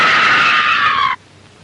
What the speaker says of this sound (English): Throw your arms across your eyes and scream